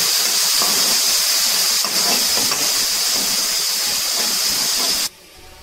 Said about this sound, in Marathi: कांदा एक चांगल्या रंगावरती एकत्र परतून घ्यायचा आहे